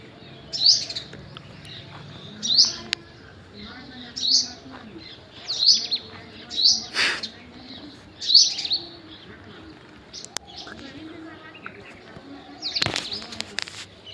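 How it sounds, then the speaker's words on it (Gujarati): Sparrows chirp in short bright bursts, about half a dozen spaced calls, over quiet background noise and occasional faint voices. "એવી મસ્ત મસ્ત ચકલી આવી જ રાખે"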